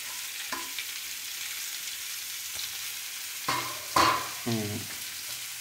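Onions sautéing in oil in a pan for kurma, a faint steady sizzle broken by a few louder scraping stirs of a spoon near the end.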